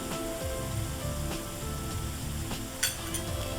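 Ginger garlic paste sizzles steadily in a hot pan with eggplant for a sesame masala curry, a continuous close frying hiss broken by a faint clink of a spoon.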